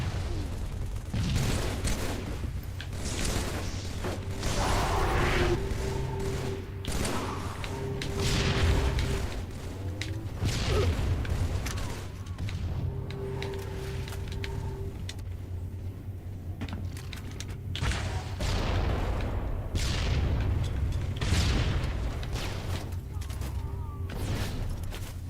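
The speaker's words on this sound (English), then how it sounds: "Why are grenades being thrown?" Grenade blasts in Halo gameplay, heavy low booms repeating through the stretch among steady game noise, with a voice talking over them.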